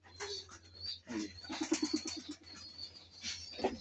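A pair of Golla pigeons coo close by, a pulsing throaty run in the middle and short coos around it, no speech.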